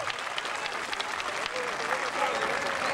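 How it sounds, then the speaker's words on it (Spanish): A dense wash of crowd applause at a rural event in Mazatepec, steady and sustained for the whole stretch, with a faint voice running underneath. "¡Fuerte el aplauso!"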